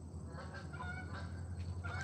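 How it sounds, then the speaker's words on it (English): Geese honk repeatedly in a park, their calls fairly faint and spread across a steady low background hum, with no talking. "And this one has a lot of geese."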